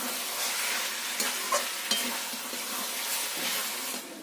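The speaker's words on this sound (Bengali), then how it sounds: "এক চামচ ধনের গুঁড়ো এক চামচ জিরের গুঁড়ো দিয়ে ভালোভাবে কষিয়ে নিতে হবে" Mutton stir-fried with coriander and cumin powder for a Dak Bungalow curry: a soft continuous sizzle with the faint scrape of a spoon turning the meat now and then, steady and unbroken, with nobody speaking.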